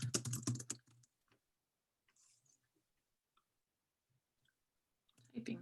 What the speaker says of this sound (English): Typing too quickly.